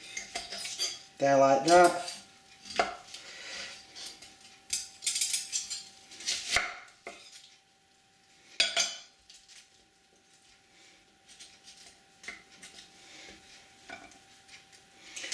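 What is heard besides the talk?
knife cutting an onion on a board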